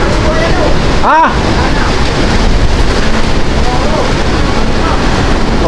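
Strong super typhoon wind at Baler, Aurora, roaring steadily and buffeting the microphone with loud gusts, with a brief sweeping whistle partway through and a background of surf and sea noise.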